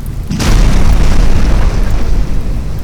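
A ship explodes: a loud, deep boom erupts suddenly and rolls on as a sustained roaring rumble, filling the space.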